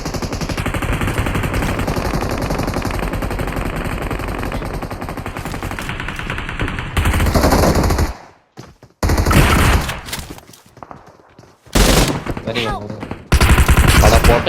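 Dense automatic gunfire in the BGMI battle royale game played on an iPad mini 7, loud rapid bursts rattling continuously, then broken into separate sprays with short silences between.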